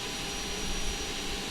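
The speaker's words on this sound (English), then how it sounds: "So now basically the fuel will start going into engine 1, and you can see the engine 1 is up and running." Engine 1 of a Boeing 737-800 running after start-up, heard as a steady, dense roar with a high whine on top, close and constant throughout without any talk.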